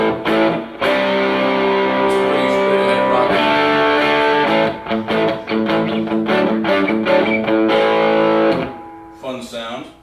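An electric guitar played through a Carr Skylark tube amp, set with the high gain down, the volume almost all the way up and both treble and bass off. Loud, gritty sustained chords ring out one after another, then fade near the end.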